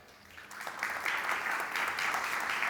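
A conference audience applauds as a moderator is welcomed on stage, the clapping starting faint and swelling into steady, moderately loud applause with no talk over it.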